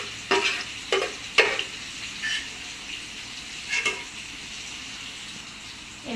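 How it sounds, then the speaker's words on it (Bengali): Potatoes frying in a pan on a stove beside beef curry preparation, a steady soft sizzle broken by several sharp scraping stirs of a spatula, close up and with no talking. "এখানে পাশের চুলাতে দিয়ে দিচ্ছি আলুগুলা"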